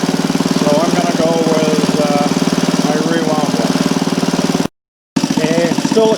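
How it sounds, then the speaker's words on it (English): A Briggs 5S single-cylinder engine drives a rewound generator at a moderate speed, a loud, close, steady chugging beat that briefly cuts out before resuming, with someone talking over it. "I don't want the engine screaming. Around 1800 RPM seems nice."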